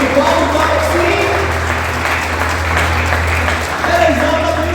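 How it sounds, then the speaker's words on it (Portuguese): A church congregation claps together in a sustained, loud round of applause, dense and even throughout, with speech faintly mixed underneath. "Você pode aplaudir o Senhor?"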